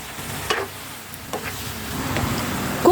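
Squid and string beans sauté in a pan after seasoning, a soft steady sizzle with a few faint scraping stirs, quiet and close with no talking.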